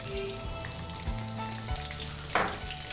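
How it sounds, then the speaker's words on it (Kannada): Green chillies fry in hot ghee, giving a steady close crackling sizzle with a low hum beneath and a couple of sharper pops. "ತುಪ್ಪ ಕಾದಿದೆ. ಇದಕ್ಕೆ ನಾವು ಹಸಿಮೆಣಸಿನ್ಕಾಯಿ ಹಾಕೋಣ."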